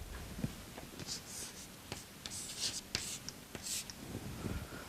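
Chalk or marker strokes on a lecture board, a series of short scratchy taps and squeaks at irregular intervals, close and fairly quiet, with faint breathing or murmuring in the background.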